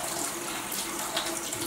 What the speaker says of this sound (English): I'm just gonna rinse it off with warm water to kind of melt some of that ice a little bit